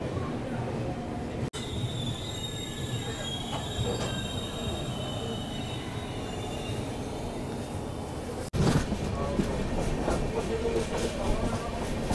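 Wheels of the LTT Express squeal steadily on the rails while the train runs, a high sustained screech with a sharp break partway through, followed by louder rumbling.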